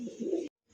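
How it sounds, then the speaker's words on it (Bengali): Caged Chittagong pigeons giving a low, close coo that breaks off abruptly into silence before a faint trace resumes. "5 জোড়া কবুতর আনছিলাম, হ্যাঁ চট্টগ্রামের কবুতর এগুলা"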